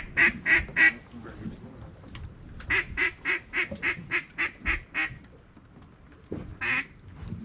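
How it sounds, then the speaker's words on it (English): Pekin ducks quack close by, a quick run of three loud nasal calls, then a longer rhythmic string of about eight quacks, and a final pair after a brief quiet stretch. "This is the sound of some Peking duck right there."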